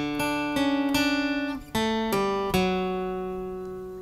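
Guitar riff from a song played alone as a loop-pedal part, a series of clear, ringing picked notes with sustained tones, each new note starting cleanly over the last.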